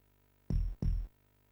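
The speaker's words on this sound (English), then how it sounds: "So you could hear the heartbeat on the left and the right" A video game heartbeat gives two heavy, booming lub-dub thumps in close succession, loud and deep, then stops, with no voices over it.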